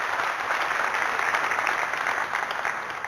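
A studio audience on a Zee News talk show claps loudly to welcome guest Nilesh Mandlewala, a dense, steady wash of applause sustained throughout without pause.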